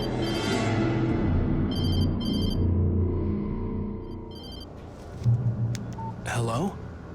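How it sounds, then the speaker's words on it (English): A telephone rings in the video game Alan Wake Remastered, a short repeated electronic trill that comes in bursts of rings over a low, rumbling game ambience, with a rising tone near the end. "She was startled by the phone."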